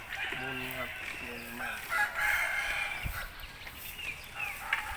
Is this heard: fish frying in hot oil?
no